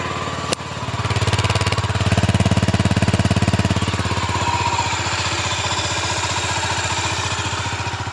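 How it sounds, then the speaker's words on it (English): A Honda GB500 motorcycle engine runs steadily and close by, with an even, pulsing thump under a faint mechanical whine after a brief start at the beginning, with no talking. "Like, it has a classic Honda whine."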